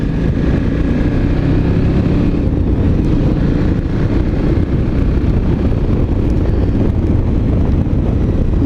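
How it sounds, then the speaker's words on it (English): Constant roaring wind buffeting the microphone over a low, steady engine drone from a moving vehicle, loud and unbroken throughout. "above the wind noise and the engine noise,"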